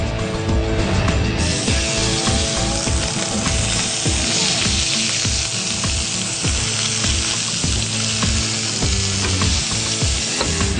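Harissa-rubbed food with salt and garlic sizzles steadily and loudly in olive oil on a hot griddle pan, with a continuous crackling hiss and occasional scraping clicks, no voices.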